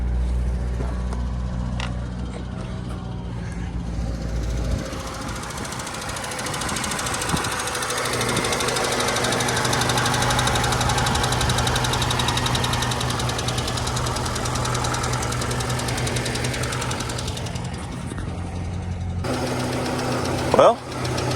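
A 1989 car's engine idling just after being started, a steady low rumble with faint knocking running throughout, a bit rough at first, with occasional clicks and bumps near the end.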